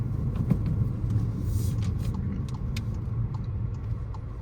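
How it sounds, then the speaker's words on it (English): A Volkswagen GTI with a six-speed manual coasts in neutral, giving a steady low rumble of road and drivetrain noise from inside the cabin with faint rattles and no revving. "So I'm gonna put it up coast it up in neutral."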